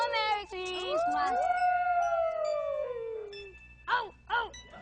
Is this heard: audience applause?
no